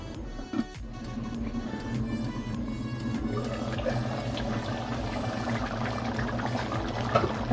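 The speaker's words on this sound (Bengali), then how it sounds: "দু কাপ জল দিয়ে দিচ্ছি।" Two cups of water poured into a pot of Bengali chicken dak bungalow curry, a sustained bubbling, gushing liquid sound close up, steady and continuous with a brief clatter near the start.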